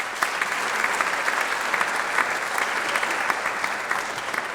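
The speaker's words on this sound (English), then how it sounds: "Give them a round of applause." Sustained applause from a large crowd at the Merrimack Valley Chamber 2022 Small Business Awards, steady and loud, continuing evenly for several seconds.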